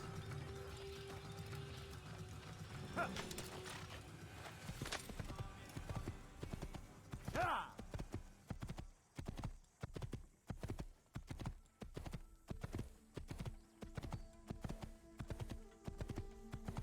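Horse hooves clip-clop in the Assassin's Creed video game, starting after a stretch of ambient game sound and settling into a steady, close, rhythmic trot that runs to the end.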